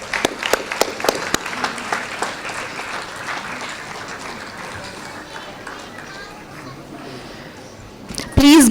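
Applause at a school annual day honoring a child, a brief burst of sharp claps at the start fading into a soft, sustained patter of the crowd, followed by a louder thump at the end.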